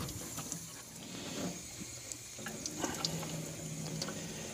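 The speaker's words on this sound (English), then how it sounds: "we should be able to rinse that off here with the water from the spigot" Water from an outdoor spigot runs over a wax resist painting to rinse off paint, making a soft, continuous splashing and trickling that is fairly faint and close.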